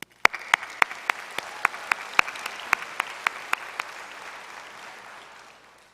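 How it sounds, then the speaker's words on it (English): At a medical school commencement ceremony, a few people clap in slow, distinct beats that ring out in a large reverberant hall, with the claps thinning and fading over a few seconds. "So we will once again applaud you and thank you."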